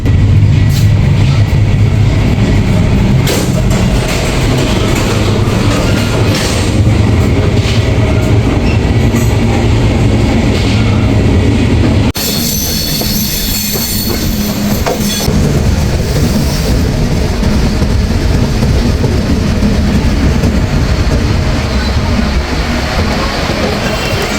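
Chilahati Express passenger train running on rails toward Dhaka, a loud, steady rumble with rhythmic clickety-clack of wheels, the tone shifting abruptly midway, with no talk over it.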